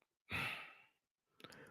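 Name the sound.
man breathing hard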